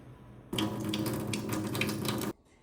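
Water gushes from a Frizzlife PD1200 filter faucet in one continuous close rush lasting about two seconds, starting and stopping abruptly.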